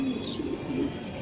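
Racing pigeons from a BRPFC club coo softly and steadily at close range, low murmuring tones running through the whole short stretch with a few faint chirps near the start.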